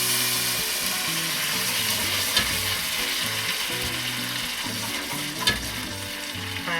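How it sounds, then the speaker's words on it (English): Stock added to a sausage risotto pan bubbles and sizzles vigorously on the stove, a continuous close crackling hiss with a couple of brief knocks from a spoon or pan; no talking. "it's boiling and bubbling, and it's really liquid"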